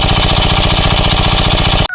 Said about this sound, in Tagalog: yung gamit naming makina, yung nilalagyan ng krudo